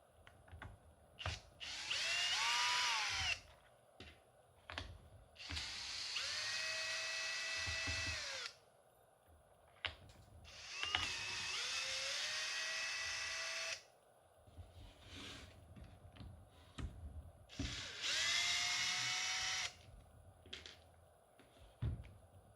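A Makita cordless power drill with a long extension bit drives out screws in four separate whirring runs, each spinning up to a steady whine, with clicks and handling noises between bursts.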